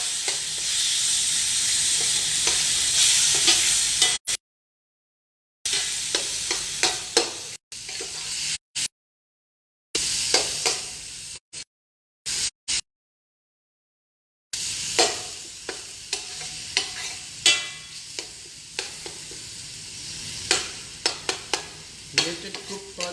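Oven-roasted tomatoes sizzle and fry in a pan while being stirred, with steady scraping and crackling that cuts out for several silent gaps before resuming, no talking.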